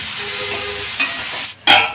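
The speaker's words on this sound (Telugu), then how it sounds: "ఉల్లిపాయలు బ్రౌన్ కలర్ వచ్చే వరకు వేయించుకోవాలి" Sliced onions and green chillies frying in a pan give off a soft steady sizzle, with a couple of brief stirring scrapes and a sharper hiss burst near the end.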